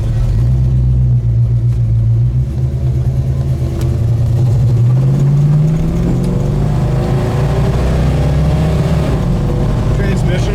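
Deep, throaty engine rumble of a 1970 Plymouth Road Runner while driving, loud and close with low droning tone that rises and shifts as it accelerates, steady throughout.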